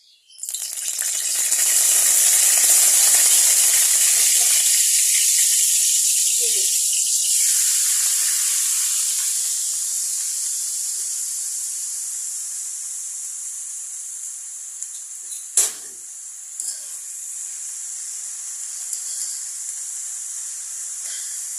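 Bottle gourd fries in a pan with salt, green chili and onion, giving a loud, steady sizzle and hiss that slowly softens, with a few faint clinks near the end.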